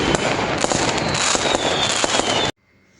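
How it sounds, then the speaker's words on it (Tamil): Firecrackers going off in a rapid, crackling burst of sharp pops for about two and a half seconds, loud and close, then cutting abruptly to near silence. "பட்டாசு"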